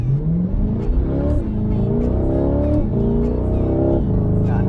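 A 2022 Chevrolet C8 Corvette with a 6.2 liter V8 and 8-speed dual-clutch transmission accelerating, a loud, close engine drone rising in pitch through successive gear changes, heard from inside the car.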